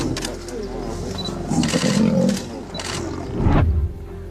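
Lion and buffalo fight in the wild, with deep growls and roars rising and falling over a continuous rough, noisy background, loud and close throughout.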